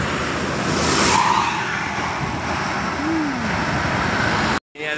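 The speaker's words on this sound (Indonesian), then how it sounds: "AKDP, bis Marlin" A Marlin intercity AKDP bus rolls past at close range in Palembang, a broad, steady road roar of engine and tires that holds for several seconds before cutting off abruptly near the end.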